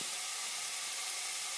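Meat sears in a hot pan alongside garlic, butter, salt and pepper, giving a steady, close hiss that holds at an even level with no breaks.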